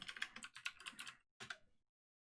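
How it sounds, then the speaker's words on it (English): Password being typed on a computer keyboard at a Linux Mint 20 XFCE login screen: a quick run of close keystrokes for about a second, a brief pause, then a short final burst of clicks. "let's type in our super secure password that has nothing to do with Doctor Who"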